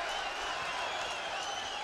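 Boxing crowd cheering and applauding during a heavyweight bout, a dense, steady roar of voices and clapping filling the arena at constant loudness throughout.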